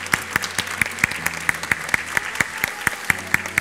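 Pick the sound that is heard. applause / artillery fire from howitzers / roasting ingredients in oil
applause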